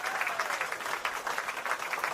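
An audience claps enthusiastically at a live show, a dense steady patter of many hands close by, holding at an even level without voices.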